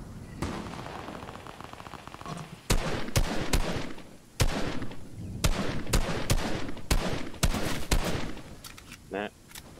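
Fortnite video game gunfire: sharp, loud shots crack out singly and in quick clusters over a busy game backdrop, with a player's voice occasionally audible alongside.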